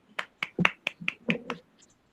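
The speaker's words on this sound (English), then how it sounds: "everyone clap for them" Students clapping for classmates after a game at a school art-integrated learning event, a sparse series of about eight separate sharp claps in an uneven rhythm, close and fairly loud, fading out at the end.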